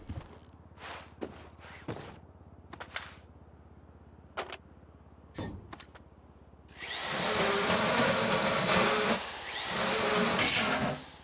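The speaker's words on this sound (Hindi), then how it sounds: "तो यहाँ पे भी हम फिर से ड्रिल कर लेते हैं।" Drilling during a Fleeca bank heist in the FiveM game: a loud, sustained power-drill whir starts partway through after a few scattered footstep-like knocks and clicks, then runs steadily to the end with a brief dip.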